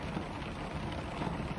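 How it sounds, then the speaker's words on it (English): Torrential rain pours down outside a van, a steady, dense hiss of drops drumming on the surface with no breaks and no voices. "check out the rain"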